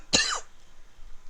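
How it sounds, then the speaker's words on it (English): A single sharp cough from a streamer, close and abrupt, trailing into a short rasp of throat clearing before near silence. "Now I'm fucking coughing like a madman."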